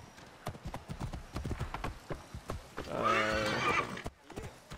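Horse hooves clip-clopping and a horse neighing in the video game Assassin's Creed Origins, with steady hoofbeats throughout and a loud whinny near the end, and someone briefly speaking over it.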